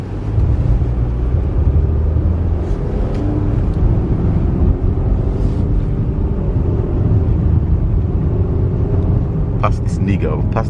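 A car drives a snowy, slushy road through a blizzard in Canada, a steady loud low rumble of engine and tyres on wet snow running throughout, with a voice talking over it and a brief clatter near the end.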